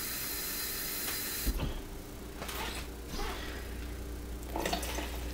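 Cold water running into a sprayer bottle through a funnel, a steady hissing rush that shifts in tone as it fills, with a few gurgles and splashes close by.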